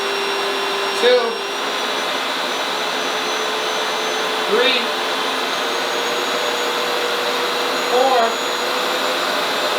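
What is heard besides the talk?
RevAir hair dryer running at full heat, setting 7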